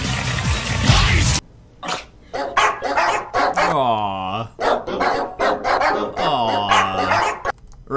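Dog barks from a comedic meme clip, a series of short, loud yaps mixed with voices and abrupt edits.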